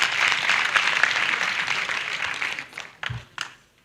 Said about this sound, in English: Let's clap hands for the students.